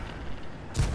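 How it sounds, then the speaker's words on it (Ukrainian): A single gunshot in a video game, fired at hares, bursts out near the end over a steady low background hum. "О, зайцям бахкаєш та й все."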